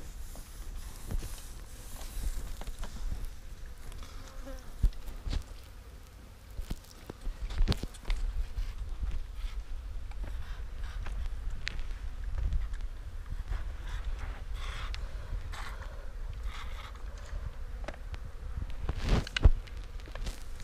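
Flies buzzing around an Angus bull with a large hoof wound from hoof disease, a steady near insect drone over farmyard noise with scattered knocks and thumps throughout.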